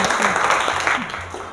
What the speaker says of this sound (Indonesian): Keren, tepuk tangan dong